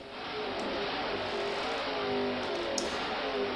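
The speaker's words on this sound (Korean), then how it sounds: "직렬 8기통" A Suzuki inline eight-cylinder motorcycle engine, built on a Bandit 250 (GSF 250) chassis and engine base, holds a steady, high, buzzing rev for about three seconds with a slight swell, no voices over it.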